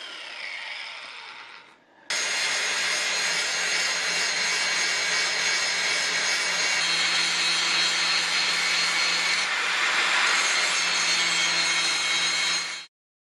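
A grinder runs steadily on cast iron jointer parts, grinding them straight, a loud continuous high whine with a brief pitch shift midway, starting after a short quieter lead-in and stopping abruptly at the end.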